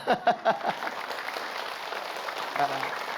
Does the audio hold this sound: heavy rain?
no